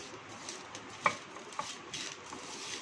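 Chopped mango and rock salt are mixed for pickle in a bowl, giving quiet scraping and stirring sounds with a couple of soft clinks.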